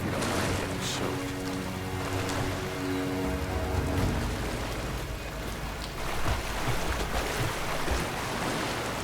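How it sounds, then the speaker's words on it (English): Steady rain falls in the video game Rise of the Tomb Raider, a dense continuous patter and hiss that persists at an even level throughout, with a low hum underneath and no talk. "When it rains, the deer cluster together under the trees."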